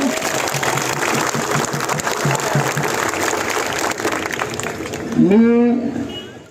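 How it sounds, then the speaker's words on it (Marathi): Crowd clapping for the police at a workers' union strike rally in Mira Bhayandar: dense, steady applause that fades near the end as a voice begins speaking. "एकदा जोरदार त्यांच्यासाठी टाळ्या वाजवा"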